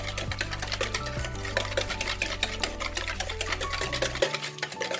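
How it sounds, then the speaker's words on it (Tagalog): A whisk beats an egg yolk mixture for chiffon cake in a bowl, with fast, even scraping strokes tapping against the sides under quiet background music. "mahalo lang natin yung egg yolk sa ilalim"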